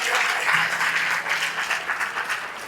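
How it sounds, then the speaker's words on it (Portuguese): A church congregation applauds during a worship service, a steady, dense wash of many hands clapping together that stays loud throughout and eases only slightly toward the end. "Se for para aplaudir, pode aplaudir o Senhor."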